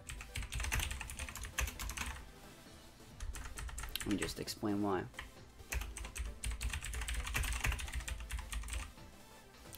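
Rapid clattering keystrokes as a reply is typed on a computer keyboard, in quick uneven bursts, with someone briefly talking over the typing partway through.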